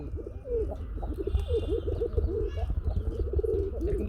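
Several golla pigeons, a local domestic breed in a pigeon seller's stock, coo in repeated soft, throaty rolling phrases close by, with a low murmur of background noise and no speech over them.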